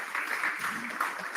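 Brief applause from the room at a Phillips watch auction, a steady, dense patter of clapping filling the short moment after a lot is sold.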